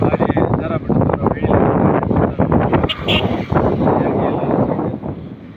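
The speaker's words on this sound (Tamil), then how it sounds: "என்ன ஒரு காற்று." Loud wind buffets the microphone in low, roaring gusts on the Kalvarayan Hills, with a voice speaking underneath.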